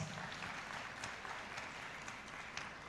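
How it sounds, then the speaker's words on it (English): An audience at a college's 44th commencement exercises gives a round of applause, a steady, fairly distant wash of clapping held at an even, moderate level for about three seconds. "let's give everyone at the back a round of applause"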